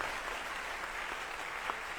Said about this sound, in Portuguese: E eu vou chamar aqui no palco também o nosso produtor, Ronaldo Diaferi, a quem eu peço uma salva de palmas